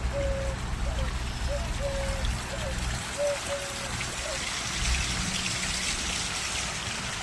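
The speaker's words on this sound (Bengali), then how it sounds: "এই হইল ঝর্ণা।" A park water fountain trickles steadily where pigeons bathe, giving a soft, continuous splashing over a low background rumble.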